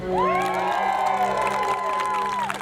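An outdoor audience at the 73rd Maine Lobster Festival Sea Goddess Coronation cheers on cue, with loud whoops and high rising shouts held together in a single burst before it breaks off.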